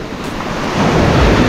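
Strong ocean waves crash and surge close by in a continuous broadband roar that swells louder halfway through, with wind buffeting the microphone and no talk.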